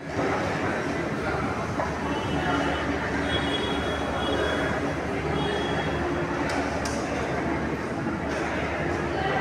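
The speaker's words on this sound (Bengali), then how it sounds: "রেল এখন প্রবেশ করতে চলেছে হুগলি নদীর তলদেশে।" A Kolkata Metro train runs through the tunnel beneath the Hooghly river with a constant loud rumbling roar, faint wheel squeals and brief clatters, and a station-style announcement voice heard over it.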